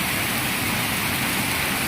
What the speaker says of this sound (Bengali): সুন্দর বৃষ্টি পড়তেছে।